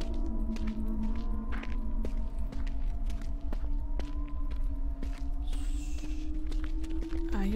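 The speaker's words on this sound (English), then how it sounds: "I hear footsteps that aren't mine." Footsteps in the horror video game Wick, regular soft steps at a walking pace over a low droning background hum, moderately close and fairly quiet.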